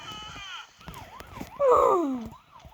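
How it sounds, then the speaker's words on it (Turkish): A video game police siren wails, rising and falling repeatedly in the background, while a voice gasps or exclaims loudly over it. "Polis sirenlerinin ses devam ediyor."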